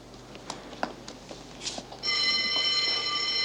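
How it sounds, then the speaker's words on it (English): After a few soft clicks and knocks, a prison lunch bell starts ringing loudly and continuously, a sustained electric clang that holds to the end. "Calm down. It's only the lunch bell."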